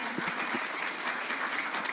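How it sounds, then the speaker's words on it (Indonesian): An audience gives a round of applause for a guest, dense steady clapping throughout a short stretch, moderately loud with a faint voice underneath. "kita beri tepuk tangan ya"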